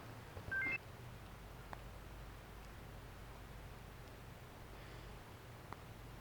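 Telephone dialing tones come in a quick burst of beeps near the start, then give way to a low, steady background hiss for the rest of the clip.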